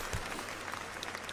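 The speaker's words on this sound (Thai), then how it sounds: "ปรบมือให้ตัวเองหน่อยได้ไหมคะ" A crowd at a Miss Grand Thailand farewell event applauds, a short burst of steady clapping at moderate level.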